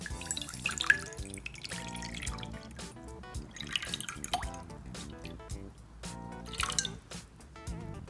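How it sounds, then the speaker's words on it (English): Water poured into a wide bowl, a close stream of trickles and drips over faint background music, with small splashes and gurgles coming at an uneven rhythm. "in a bowl that's kind of wide, go ahead and pour water in."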